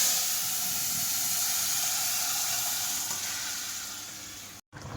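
Vegetables fry in a hot wok-style pan of oil tempered with panch phoron spices, giving a steady, close, loud sizzle that holds for most of the time before a brief cut near the end.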